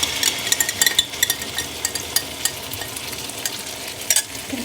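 Yellow noodles for mee goreng being stirred and fried in a pan as sauces go in, giving a steady sizzle under repeated close scraping and clattering strokes of the utensil, with no talk.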